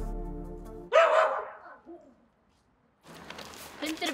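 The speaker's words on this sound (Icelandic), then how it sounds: "Hundur" A dog barks at a house door during charity collecting rounds, one loud close bark followed by a burst of noisy rustling and movement.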